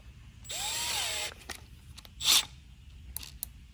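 A cordless drill briefly spins up while tightening screws on Dynafit ski bindings being mounted to skis, a rising whine followed by short clicks and a ratcheting burst, close and fairly quiet.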